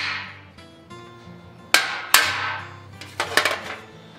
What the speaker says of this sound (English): I'm gonna do this old school with just a cold chisel here